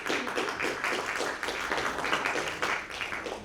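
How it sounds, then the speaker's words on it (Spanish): An audience at a formal lecture claps in steady, dense applause for several seconds, moderately loud and even, with no speech over it. "así que le damos un fuerte aplauso"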